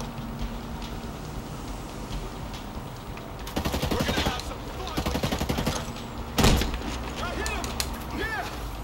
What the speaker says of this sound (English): That machine gun.